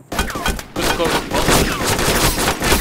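Gunfire in the DayZ mod, rapid repeated shots and bursts, loud and close, filling the clip with dense crackling reports.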